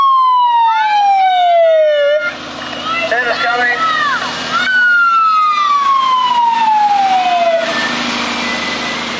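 A toy fire truck siren wails in repeated descending tones, loud and close, with electronic warbling between the sweeps.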